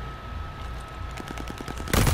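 A rapid burst of MG34 machine gun fire in a first-person shooter video game, a quick run of sharp shots after a quiet stretch, then a louder blast at the end.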